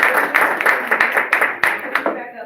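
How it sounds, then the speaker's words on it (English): Workshop audience applause on small-business AI tools, a dense patter of many hands clapping close by for a couple of seconds while talk continues over it. "give them another round of applause"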